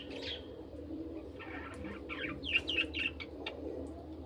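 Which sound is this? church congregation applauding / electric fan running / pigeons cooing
pigeons cooing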